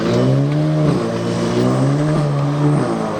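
A Skoda Octavia with a turbo-back exhaust revs loudly and steadily, rising and falling in pitch with a deep, bassy exhaust rumble and fluttering turbo texture.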